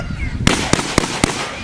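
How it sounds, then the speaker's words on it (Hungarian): Four sharp, loud gunshots crack in quick, evenly spaced succession during police dog training, each one a brief, hard bang over an outdoor background. "Ugye a kutya nem reagál a lövésre."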